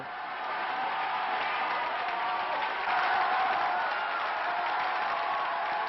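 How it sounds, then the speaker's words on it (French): A crowd outside Lionel Jospin's campaign headquarters gives him an ovation after his defeat, with sustained applause and cheering that swells midway, heard from a modest distance. "Il est battu, mais dehors, c'est une ovation qui l'attend."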